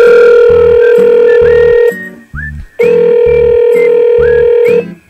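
A telephone rings in a Korean radio drama, a loud steady electronic ring sounding in two long bursts separated by a brief gap, with no talking over it.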